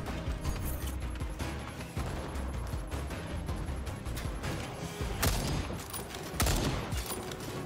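Rapid gunfire rattles almost continuously in the Second Extinction dinosaur-hunting shooter game, with dense bursts and sharp impact crashes throughout and no talking.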